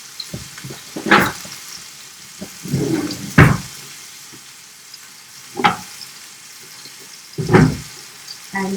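Chopped onion frying in about a tablespoon of olive oil in a pan, with a steady low sizzle and several louder bursts of stirring and clatter as the pieces are mixed.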